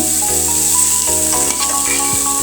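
Carrot and potato bhaji sizzles loudly and steadily in a pan, with scraping stirring strokes across the hot fry.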